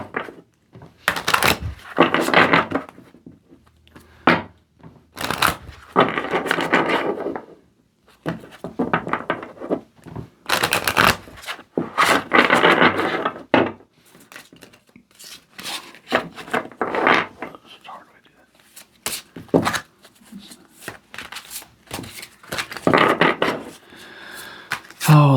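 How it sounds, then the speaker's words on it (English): Oracle cards from an Ascended Masters deck being shuffled by hand, bursts of papery riffling and rubbing that come in irregular clusters separated by short pauses, close and fairly loud with no voice over them. "Let's get to shuffling."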